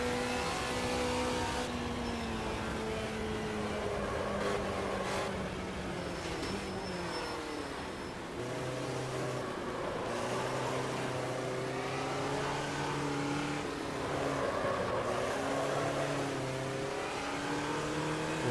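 A race car in the racing game Automobilista 2 runs continuously, its engine rising in pitch under acceleration and dropping between gear changes, droning close and steady with no voices.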